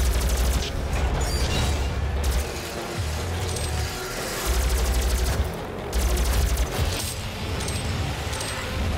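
Rapid automatic gunfire in DOOM 4 on PC, loud continuous bursts of shots broken by short pauses, with mechanical clanks and ratcheting between volleys.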